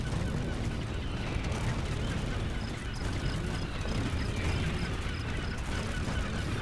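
Seagulls cry in the video game Brutal Legend, their repeated calls blended into a dense, steady wash of game sound that carries from start to finish.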